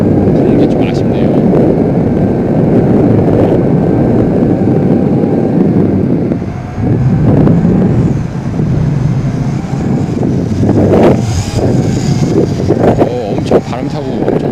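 Wind gusts roar over the microphone while a YiZhan X6 Tarantula drone flies on a hillside, with a steady loud buffeting rumble throughout and someone talking over it.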